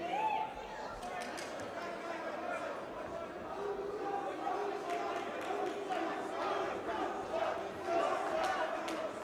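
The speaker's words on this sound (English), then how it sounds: "Crowd cheering Ruslan" A fight-night crowd in Batumi chants and cheers for fighter Ruslan during a grappling exchange, a muffled, distant roar running under continuous commentary.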